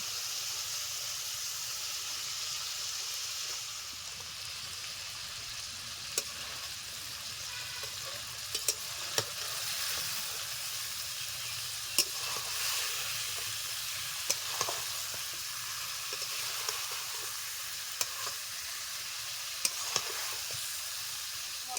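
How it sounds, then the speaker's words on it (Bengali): Fried fish cooking in spice paste for a Bengali fish curry, giving a steady close sizzle and hiss with occasional light stirring ticks, continuous and even throughout. "মশলার সঙ্গে মাছটা আর কিছু সময় ধরে ভালো করে কষে নিয়েছি"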